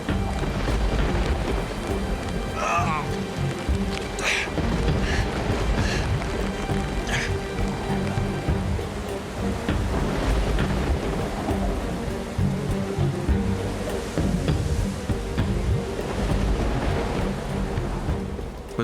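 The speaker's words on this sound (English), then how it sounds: "the relentless storm and the slippery ground are taking their toll on Bruce" Thunderstorm with heavy rain in grizzly bear country, a dense continuous roar of rain with low rumbling throughout and a few sharper bursts, loud and unbroken across the whole stretch.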